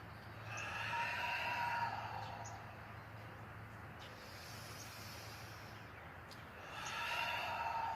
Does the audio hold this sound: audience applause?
no